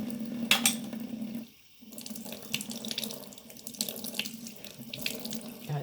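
Running tap water rinsing makeup brushes in a sink, a steady close splashing stream that briefly stops and then resumes with uneven sloshing and small clinks.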